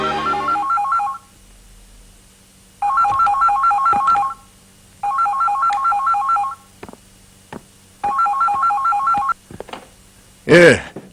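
An electronic telephone ringtone chirps in four loud, regular bursts of rapid warbling tones, with short gaps between them, in an indoor office setting at a large orphanage school, followed by a brief voice at the end.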